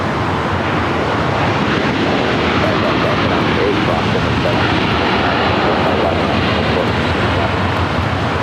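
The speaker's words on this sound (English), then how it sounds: "up next is the Illinois 1 Southwest Special Livery" Southwest Airlines Boeing 737-800 in the special Illinois livery at LAX, its jet engines giving a steady, loud broadband roar throughout, mixed with wind buffeting the microphone in rough weather.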